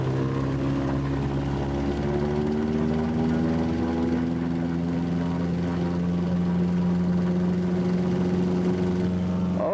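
A small aircraft engine drones loudly during takeoff in Alaska, a steady close propeller hum whose pitch rises slightly as it climbs, continuous with no talking.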